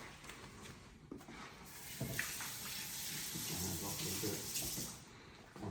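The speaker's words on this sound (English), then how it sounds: "Now I'm going to wash my hands." Tap water runs steadily into a sink as hands are washed outdoors in a sunlit backyard during a bacon, eggs and grits breakfast, a moderate continuous splash with faint talk underneath.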